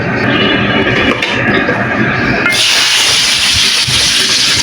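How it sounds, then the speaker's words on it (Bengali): Cubed potatoes frying in a pan give a loud, continuous hissing sizzle close up, which turns brighter and harsher partway through, with no voices. "আমি শাকের ভিতরে কিছু আলু কিউব করে কেটে রেখেছি, আমি সেটা ভেজে নেব।"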